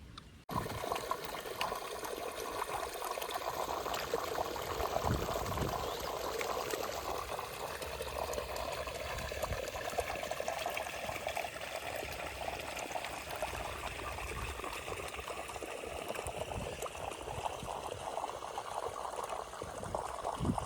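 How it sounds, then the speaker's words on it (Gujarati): Irrigation water runs steadily into a maize field, a continuous faint rushing and trickling flow with no talk. "મકાઈમાં પાણી ચાલુ કર્યું"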